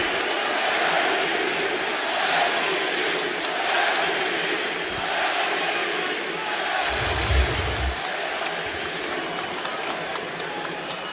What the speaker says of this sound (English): You heard the MVP chants.